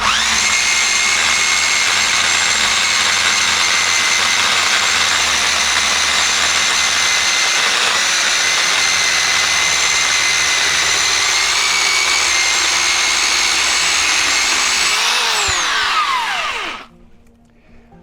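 A DekoPro electric pole chainsaw cuts through a tree branch outdoors, a loud, steady high-pitched motor whine held for about fifteen seconds before winding down and stopping abruptly.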